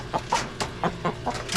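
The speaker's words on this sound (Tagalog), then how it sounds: "Manok salbi." A chicken clucks several times in quick, uneven bursts, close by, over faint background noise.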